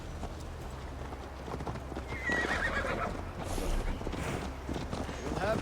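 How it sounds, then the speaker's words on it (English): A horse in Assassin's Creed Valhalla clip-clops along at a walk and gives a clear neigh partway through, heard close and fairly quiet over low game ambience. "Mount up, Eivor. It's a long ride to Tamworth."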